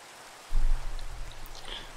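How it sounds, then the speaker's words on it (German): Rain falls in the video game Minecraft, starting abruptly as a steady patter and wash that stays moderately loud, with no talking over it. "und es regnet immer noch so ein Blödsinn"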